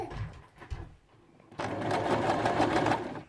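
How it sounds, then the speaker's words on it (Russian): A sewing machine stitches a bartack across a seatbelt slot, with a few faint clicks followed by a loud, close, rapid mechanical whir of needle strokes in the second half. "делаем несколько раз закрепку"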